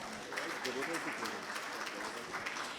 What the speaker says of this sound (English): Ladies and gentlemen, please give them the biggest round of applause.